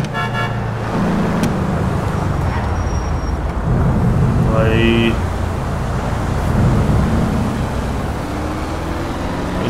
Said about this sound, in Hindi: गाड़ी का आवाज इतना खतरनाक है।